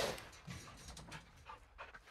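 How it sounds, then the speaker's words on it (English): A dog pants in quick, breathy bursts inside a bedroom in Call of Duty Modern Warfare 2, close and moderately loud, with a few faint whimper-like notes. "Is that a doggy?"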